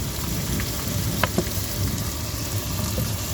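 Tomatoes sauté in a pan for a fish curry, giving a steady, close sizzle with a few faint clicks and pops.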